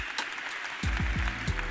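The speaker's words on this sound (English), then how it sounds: "Give her a round of applause." Audience clapping for a woman invited up on stage at a confidence talk, a broad hiss of applause running throughout, with low thumping voice-like strokes cutting in over the second half.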